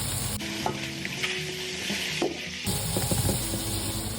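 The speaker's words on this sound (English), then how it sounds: "Toss in the shrimp and cook until they're almost pink." Shrimp cooking in oil with chili flakes in a skillet for a Mediterranean shrimp and feta dish: a loud, close sizzle with quick stirring scrapes and clatter, and the sizzle flares up abruptly near the end.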